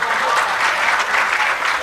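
A crowd claps loudly for a poet at a Hindi comedy poetry show, the applause dense and unbroken for a couple of seconds with no speech over it.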